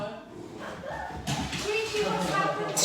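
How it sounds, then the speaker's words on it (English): Several dogs in a home bark, yip and whimper excitedly in an agitated burst that grows louder, mixed with overlapping human voices close by. "The dogs are kicking off."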